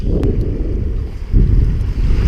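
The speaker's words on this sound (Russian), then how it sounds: "Вот в такую волну приходится рыбачить" Waves slapping and wind buffeting around a small fishing boat on rough open water, a loud, continuous low rumble with a heavier surge partway through, no voices.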